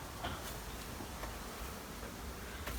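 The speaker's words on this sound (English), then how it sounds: "That's a lot of bees." A big swarm of bees drones in a steady, low, faint buzz, with no one speaking over it.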